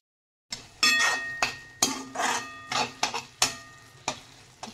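Egg bhurji made with boiled eggs being stirred in a metal pan, a spatula scraping and knocking against it in a string of irregular strokes with a light sizzle underneath, close and alone.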